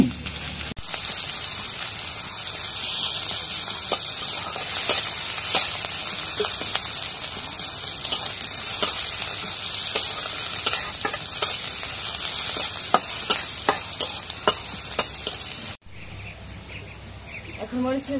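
Chopped onion and green chili frying in oil in a wok, a close, constant crackling sizzle with scattered pops and stirring scrapes, ending abruptly near the end, with a few birds chirping faintly in the background.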